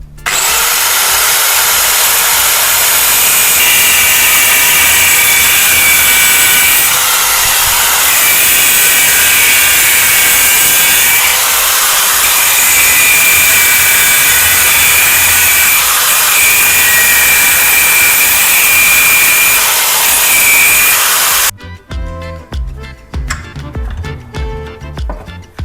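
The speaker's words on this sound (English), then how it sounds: "I'll clamp it down tightly, then slowly cut off each pin." A power cutting tool grinds through small metal pins on a knife tang held tight in a clamp, a loud sustained high whine broken by short dips between pins, ending with quieter clattering handling noises.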